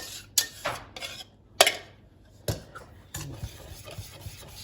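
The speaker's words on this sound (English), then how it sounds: "Stir that up good." A spoon scrapes and stirs through thickening pie filling in a pot on medium-low heat as egg yolks are mixed in, with repeated close clinks against the metal rim and a steady rubbing swirl between them.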